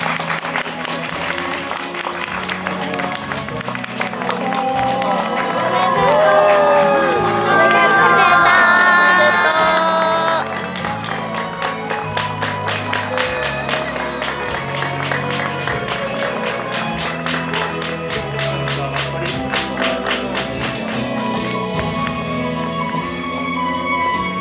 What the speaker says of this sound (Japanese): どうぞ皆様盛大な拍手でお二人をお送りください。